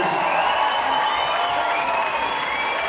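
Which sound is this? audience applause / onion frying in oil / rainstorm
audience applause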